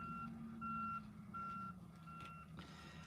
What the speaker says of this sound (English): You are hearing the garbage truck if you're hearing that noise.